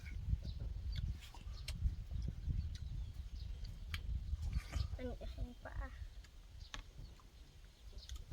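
Chickens at a rural garden home cluck intermittently at close to moderate range, faint and scattered among quiet outdoor background sounds, while someone talks nearby.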